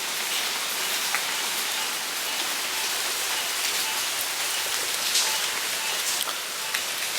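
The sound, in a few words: heavy rain falling during Hurricane Harvey flooding in Houston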